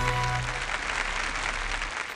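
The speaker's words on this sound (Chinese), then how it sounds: "掌声有请" An audience at a televised archaeology lecture breaks into steady applause, a dense wash of clapping that carries on evenly to the end.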